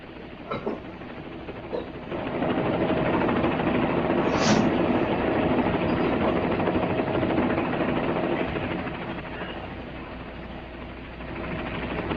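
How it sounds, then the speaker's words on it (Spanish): A helicopter comes down to land in a parking lot, its engine and rotors making a dense, steady roar that swells after the first couple of seconds, holds loud, then eases slightly near the end with no speech. "¿Es un helicóptero? Está aterrizando en el estacionamiento."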